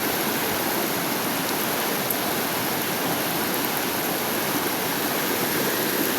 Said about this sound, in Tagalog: Ang laki ng baha karon oh